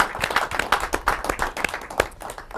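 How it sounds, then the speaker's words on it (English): An audience at the Salem Access TV annual meeting applauds, a steady patter of many hands clapping at close range for the full length, with no voices over it. "maybe we can give everyone a round of applause"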